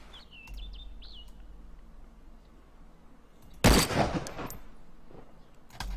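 A single loud gunshot from an FN FAL assault rifle in the video game DayZ cracks out once amid an outdoor ambience with birds chirping, followed by a brief echoing tail.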